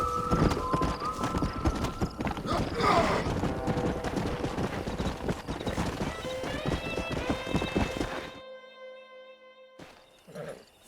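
Horse hooves clip-clop steadily and a horse whinnies in the Red Dead Redemption video game, with a bright musical tone and a brief burst of distant gunfire, then a quieter stretch with a short closing sound near the end.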